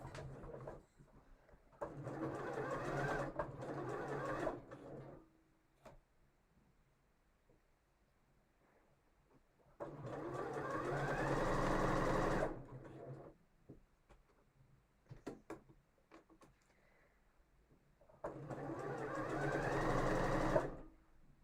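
A sewing machine stitching in three sustained runs, each a few seconds long, separated by quiet pauses with faint handling clicks; close and clear.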